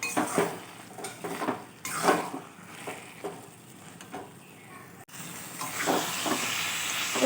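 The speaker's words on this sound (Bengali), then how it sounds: "এবার নারকেলটা দিয়ে কচুর সঙ্গে শাকের সঙ্গে খুব ভালোভাবে মেশাবো" Grated coconut being stirred into cooked colocasia greens in a pan, with soft hissing steam and a series of scraping, clinking spoon strokes against the metal, moderately close and quiet, no speech.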